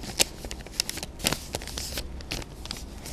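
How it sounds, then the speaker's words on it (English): Paper is folded by hand, giving a series of sharp crinkles and creases in irregular bursts, close and clear with no voices. "So just fold it over"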